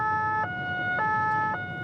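A gendarmerie patrol car siren on the A8 motorway on the French Riviera wails in a steady two-tone pattern, loud and close, switching pitch about every half second over road noise.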